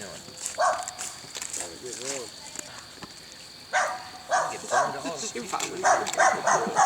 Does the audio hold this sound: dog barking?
yes